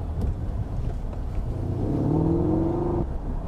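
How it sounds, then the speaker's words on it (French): A Porsche Panamera GTS revs up close by, its engine note rising in a rumbling climb before dropping off, with no speech over it. "c'est un diesel qui fait beaucoup de bruit celui-là"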